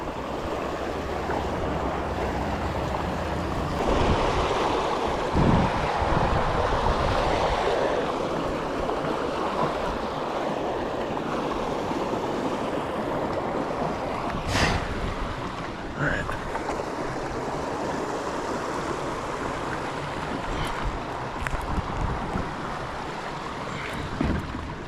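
Rushing water at the Suwannee River rapids roars steadily around a small fishing boat heading upstream, a broad, loud wash with wind and occasional sharp knocks, while a voice speaks now and then underneath.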